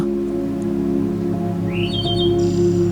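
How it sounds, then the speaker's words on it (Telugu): Small birds in an aviary at Kothwalguda Eco Park give a few thin, high chirps and a short rising whistle near the end, faint above a steady low hum. "ఇక్కడ కొన్ని రకాలైన పక్షులు చూశాను, చూడడానికి చాలా చాలా బాగున్నాయి."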